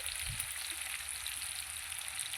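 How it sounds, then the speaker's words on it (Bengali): Potatoes and onions fry in a pan, browning with a steady, even sizzle that holds at moderate loudness throughout with no talking. "আলু পেঁয়াজ আমি ভালো করে ভেজে নেবো লাল লাল করে"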